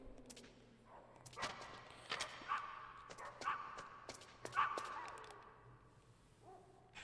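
Dogs barking in Metal Gear Solid, a run of sharp yips and barks repeating every second or so, fairly faint, with a low steady hum underneath.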